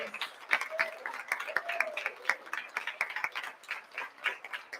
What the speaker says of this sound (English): could we please have a round of applause for our very amazing, excellent, scholar authors